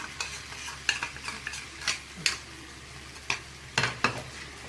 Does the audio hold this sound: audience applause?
no